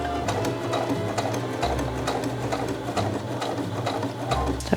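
Sewing machine stitching fabric at a slow, even pace, its motor humming under a rapid, rhythmic needle clatter.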